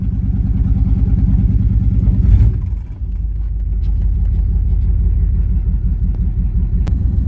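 Deep, loud exhaust rumble from an OBS GMC 1500 truck fitted with an exhaust cutout, a steady idle with a brief rev and dip before settling back into a lumpy, throbbing burble.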